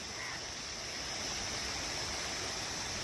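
A natural spring runs through a park, its water giving a continuous broadband rushing babble, with a steady high insect drone above it and no voices.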